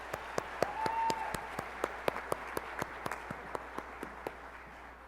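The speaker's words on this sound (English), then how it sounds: "Please join me in one more round of applause for our Vantage Gold partners" An audience at an awards celebration applauds Vantage Gold partners: a steady wash of clapping with sharp, regularly spaced claps standing out on top, sustained at moderate level throughout.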